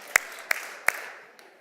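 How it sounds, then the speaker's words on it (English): Audience clapping in unison, four sharp claps evenly spaced with a short fading tail after each, heard in a quiet room. "If you hear me, clap 4 times."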